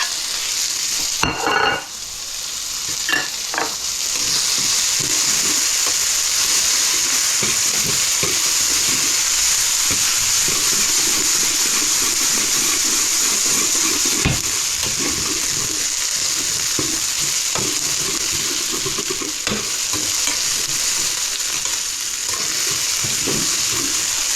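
Garlic and onions fry in a pan for donburi, a loud, steady sizzle running throughout and broken by occasional clacks and scrapes of stirring. No one speaks.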